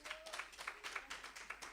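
A church congregation applauds during a French-language sermon, the clapping faint and distant but steady, with a brief voice heard near the start.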